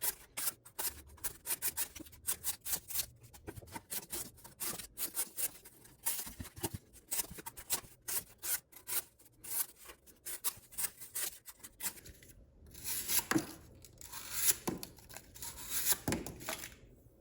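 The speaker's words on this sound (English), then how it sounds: "Just out the ergos and the Samurai, doing a little bit of wood shaving" A Bestech Samurai knife with an M390 blade shaving wood in close, repeated short scraping strokes with brief pauses, growing harsher and more rasping toward the end.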